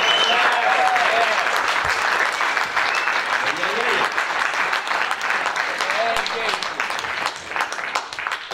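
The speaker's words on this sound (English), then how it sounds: "give a wonderful, wonderful round of applause for Mr. Jason Samuel Smith." An audience at a jazz performance in a library applauds steadily for several seconds, a dense wash of clapping with a few faint voices and whoops mixed in.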